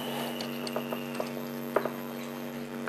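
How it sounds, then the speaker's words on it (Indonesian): A ratchet wrench clicks in quick irregular bursts while loosening a bolt on a Honda automatic scooter's combi brake, the close mechanical ticks sitting over a steady electrical hum with no talking. "Ini tinggal buka aja ya, lepas bautnya"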